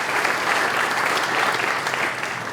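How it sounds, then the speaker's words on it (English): A crowd at a groundbreaking ceremony breaks into dense, steady applause that holds at full strength for a few seconds, then starts to taper off near the end. "Yeah, you're getting your own round of applause."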